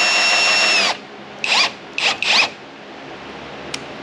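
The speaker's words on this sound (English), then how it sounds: "I'm not going full speed on the drill, just for reference, but if I crank it up here," A power drill drives a race car quick lift, whining steadily at first, then stopping and giving three short bursts of spinning motor noise at close range, without speech.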